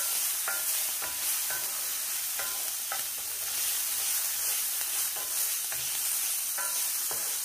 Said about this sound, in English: I'm going to move around the bacon